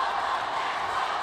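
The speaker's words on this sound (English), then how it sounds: "The crowd clad in blue and white cheering for their team" A packed arena crowd dressed in blue and white cheers steadily through a fifth-set volleyball semifinal between Philips Gold and Foton at the 2015 PSL Grand Prix, a dense continuous roar with no breaks.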